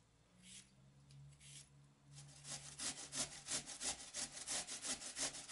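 A large cucumber rubbed against a coarse grater, starting quietly and building into a steady, rhythmic run of loud rasping strokes, close up in a kitchen with no talking.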